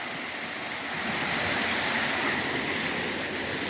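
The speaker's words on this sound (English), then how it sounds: "Furnace Brook is rip-roaring." Furnace Brook running high and flooded after recent storms, rushing beneath an old 1862 railroad culvert; a steady, loud broadband roar of churning water, continuous and alone, swelling slightly partway through.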